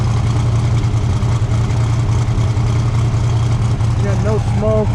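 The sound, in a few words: 1969 Camaro Z/28 DZ 302 V8 engine exhaust idling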